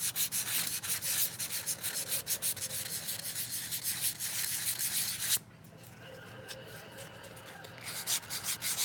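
Wood chimney piece sanded by hand with 220 grit sandpaper, a steady close scratchy rubbing that runs in quick repeated strokes, then briefly drops off and resumes more softly.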